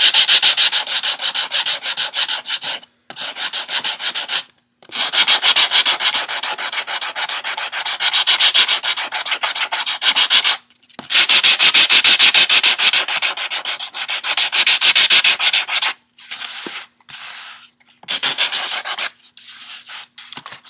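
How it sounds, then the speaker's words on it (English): Wooden braces on a small piccolo guitar being sanded smooth with sandpaper wrapped around a tube, a loud, close, steady rasping rub in long bursts separated by brief pauses. "I'm just going to sand everything smooth now"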